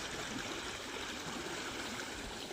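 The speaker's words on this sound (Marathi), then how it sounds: "पाणी वाहत आहे" Steady stream water flows and trickles along a tidal creek where crabs are caught, a continuous close gurgling wash filling the short stretch with no voices.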